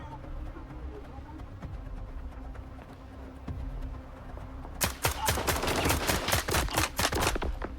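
Rapid bursts of gunfire and headshot impacts in the shooter game S.T.A.L.K.E.R. 2, sharp loud cracks in quick irregular volleys after a quieter stretch of low ambient hum.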